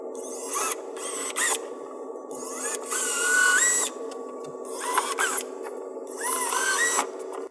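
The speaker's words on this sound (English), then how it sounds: "We're then going to drill to the depth of the blue tape." A high-pitched power drill whirs in repeated short bursts, drilling pilot holes into a wall for a TV mount, spinning up and stopping several times close by, with no talking.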